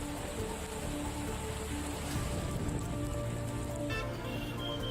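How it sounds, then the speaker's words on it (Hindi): Heavy monsoon rain pours steadily onto surfaces in Aravalli district, Gujarat, a dense, even roar of drops with faint tonal sounds in the background and no voices. "गुजरात का अरावली जिला भारी बारिश से पानी पानी हो गया"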